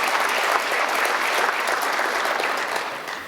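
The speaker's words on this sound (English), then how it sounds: "Let's give them all a round of applause." An audience claps steadily, a dense sustained wash of applause that tapers slightly toward the end.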